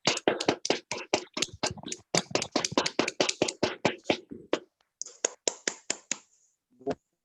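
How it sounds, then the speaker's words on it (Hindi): Hands clapping in quick, uneven bursts across a welcome on an online panel call, many sharp claps through most of the span, thinning to a few scattered claps near the end. "सभी लोग जोरदार तालियों के साथ उनका स्वागत करते हैं"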